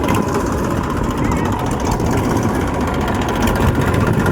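A tractor engine idling on a farm field, a loud, steady low rumble that runs throughout, close by, with faint voices underneath.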